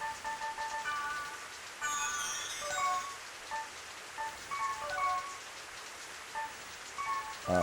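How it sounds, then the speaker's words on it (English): Ambient rain in the video game .hack//Outbreak, a soft steady patter of raindrops on surfaces, with faint chiming game tones recurring over it. "The rain sounds are nice, huh?"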